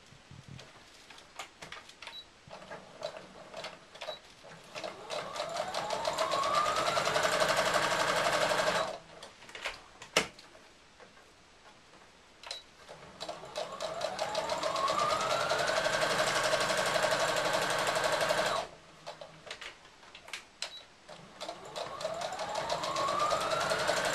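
A domestic sewing machine stitches fabric seams in long, steady runs, with a brief pause between them. The whirring and needle chatter are close and clear, and there is no talking.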